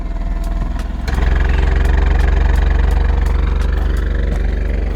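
Alfa Romeo Giulia QV with its Ferrari-derived V6 engine idling close by, a steady low rumble with a slight rise in level after the first second, no talk over it.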